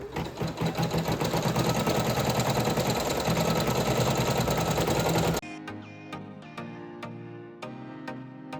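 Embroidery machine running a placement stitch on craft felt in a magnetic hoop, a fast steady mechanical chatter for about five seconds, then it stops and only faint clicks and light tapping remain.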